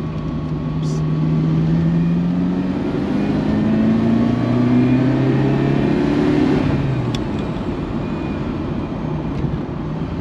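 Ferrari 328 engine driving on the road, a steady, loud drone with a smooth rise and fall in pitch as it pulls through the gears, continuous for the whole stretch with no talk.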